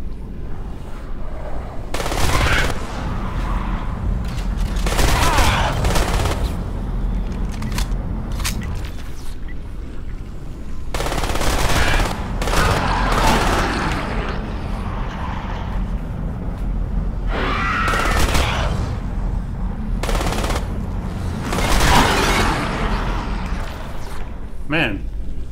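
Gunfire in the video game Crysis, loud bursts of automatic fire with booming impacts in several clusters, recurring in waves against a constant rumbling background, with someone talking over parts of it.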